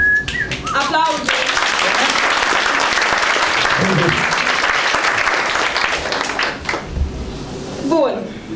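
Audience applause fills a storytelling performance of a Romanian folk tale, a dense sustained clapping wash with some whistles near the start, fading out toward the end.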